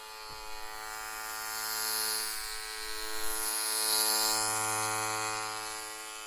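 Electric hair clippers hum steadily while cutting hair clipper-over-comb on short back and sides, a close, continuous buzz that swells and eases slightly as the blade moves through the hair.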